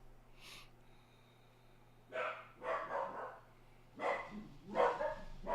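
A dog named Max barks in a kitchen, a few loud, rough barks in two clusters after a quiet start, fairly close by with a steady low hum underneath.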